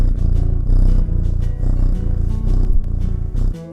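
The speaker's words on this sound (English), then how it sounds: "With the camera directly against Ralph's neck, his purring sounded incredible." Ralph the cat purring with the camera pressed right against his neck, a loud, close, continuous low rumble pulsing in steady breaths.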